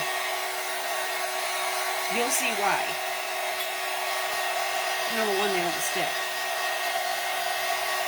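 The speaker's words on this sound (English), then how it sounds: "I'm going to hit these with the dryer a little bit." A hair dryer blows in a steady, even whir over bells being dried and roughed up, while someone talks briefly over the drone.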